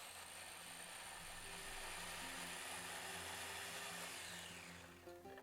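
A food processor whirs steadily as it chops cilantro and cheese, a continuous buzzing motor drone with a rising whine that winds down at the end.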